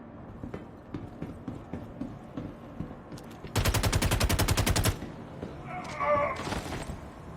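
A burst of rapid automatic fire from an FS-9 machine gun in the Star Citizen video game, a dense, steady volley lasting over a second, loud and close, following a run of lighter clicks and mechanical knocks.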